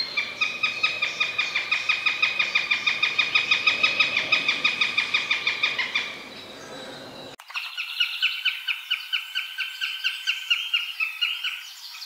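A rapid series of loud, harsh northern goshawk calls repeats steadily for about six seconds, then a second, slightly thinner run of similar calls follows after a brief break.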